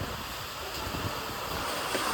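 Strong wind gusts roaring with heavy rain during a storm on a ride through Gujarat, a dense continuous rushing wash buffeting the microphone, with no voices.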